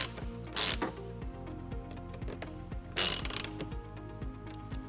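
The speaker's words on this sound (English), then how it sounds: "Then we'll tighten it up using a 10mm socket." A ratchet wrench with a 10mm socket tightens a bolt while installing a trailer wiring harness on a 2009 Dodge Nitro, giving close, steady clicking strokes with a couple of louder bursts.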